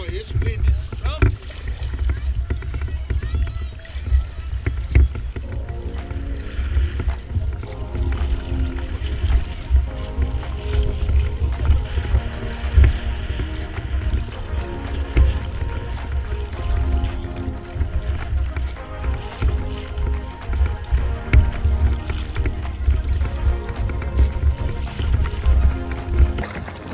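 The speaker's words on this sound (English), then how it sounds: "Boy, this wind is something." Strong wind buffets a kayak out on Lake Britton, a steady low roar of gusts and microphone rumble running the whole time with faint water movement beneath.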